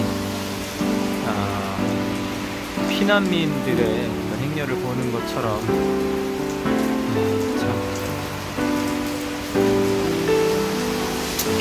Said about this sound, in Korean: 빗소리도 많이 나고 있고